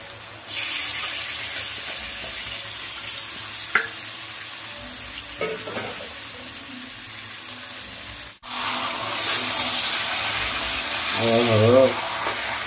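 Mutton being sautéed with spices in a pan, a continuous close sizzle broken by stirring scrapes and a short pause, with voices talking briefly over it.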